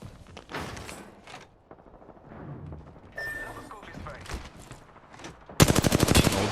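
Rapid gunfire in an Apex Legends esports match at the ALGS APAC-S Cash Cup, with scattered shots and bursts under excited commentary, ending in a loud sustained volley of automatic fire.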